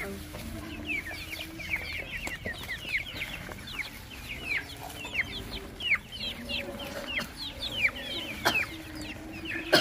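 Chickens cluck and chatter almost nonstop around a rural farmyard with an open well, many short calls overlapping at moderate distance over low background noise.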